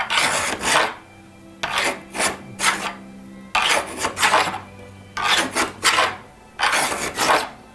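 Repeated rasping strokes shaping a Pernambuco wood bow, about eight bursts in uneven pairs, close and steady, with faint tonal hum between strokes.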